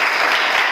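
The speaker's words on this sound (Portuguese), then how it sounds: "Você pode aplaudir o Senhor em nome de Jesus" Brief burst of congregational applause in a church during a youth service sermon, dense steady clapping at close range with no talk over it.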